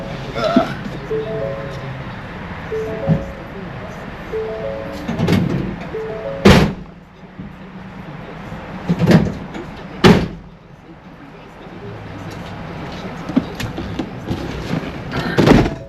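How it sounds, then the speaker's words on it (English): A cargo van door closes in a few sharp slams and thuds, loud and near, amid ongoing speech and background activity while a pallet is loaded. "I'll close my door real quick."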